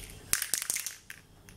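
An aerosol spray paint can is shaken hard before weathering model railway track, giving a few quick rattling, crunching strokes close to the microphone, loud at first and then briefly fading.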